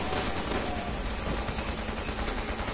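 An enemy shoots at the player in Resident Evil 6, a dense, continuous roar of rapid gunfire and overlapping blasts that stays loud and steady throughout, with no talking.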